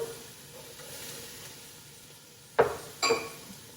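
Chilies and corn drop into a vegetable stew pot over low sizzling, with two close clattering thuds near the end as ingredients land and a utensil scrapes.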